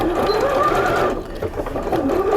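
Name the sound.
Bernina sewing machine sewing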